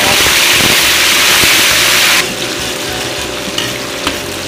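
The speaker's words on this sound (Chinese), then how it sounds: "烧油，放干辣椒和花椒" Hot oil sizzles loudly over dried chilies and Sichuan peppercorns, a bright, hissing crackle that cuts off abruptly midway, leaving quieter faint clinks and kitchen noise.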